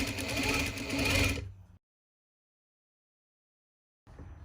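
A sewing machine stitching a fabric collar runs in a fast, steady mechanical whir for about a second and a half, then stops, followed by silence and faint noise.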